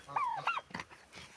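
A male turkey calls on a farm with ducks, giving two close, loud honking gobbles in quick succession followed by a couple of shorter, lower grunting notes.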